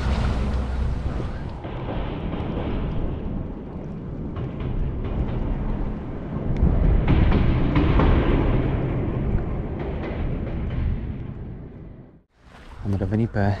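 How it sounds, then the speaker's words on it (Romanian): Strong winter wind gusts across the Danube riverbank, buffeting the microphone with a loud, continuous low roar that swells and eases before briefly dropping near the end. "Poate până atunci se mai oprește și vântul, pentru că suflă destul de puternic."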